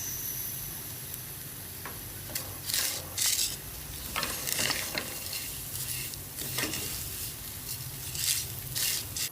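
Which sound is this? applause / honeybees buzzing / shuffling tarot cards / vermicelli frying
vermicelli frying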